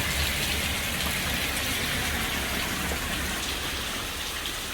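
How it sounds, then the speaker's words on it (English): Rain pours steadily outside a roofed shelter at the welcome center in Kent on the Appalachian Trail, a dense, constant hiss of drops with no voices. "Man, it feels good to be out of the rain though."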